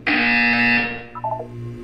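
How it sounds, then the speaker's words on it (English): A harsh, loud electronic buzzer from the video game Portal 2 blares for under a second and then cuts off, followed by a few short lower tones. "You will hear a buzzer."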